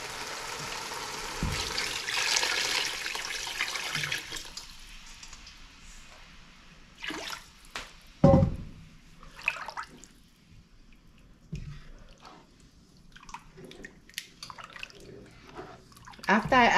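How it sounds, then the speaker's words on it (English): Water pours and splashes into a cooking pot of Senegalese jollof rice (thieboudienne) being seasoned, in intermittent bursts and drips between moments of quiet, while a person talks at times. "Then I'll add water."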